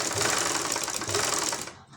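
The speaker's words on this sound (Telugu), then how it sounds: "ఒక 1/4 ఇంచ్ వరకు కుట్టు కుట్టేసుకుంటారు." A sewing machine stitches blouse hooks in a fast, continuous mechanical whir that runs close and loud for nearly two seconds before trailing off.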